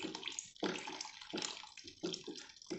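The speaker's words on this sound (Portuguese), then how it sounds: "Vamos colocar aqui agora a água sanitária, né? São 200 ml de água sanitária." Liquid bleach poured into a homemade soap mixture made with rib fat, a broad splashing, gurgling pour in short bursts with brief pauses, close and moderately loud.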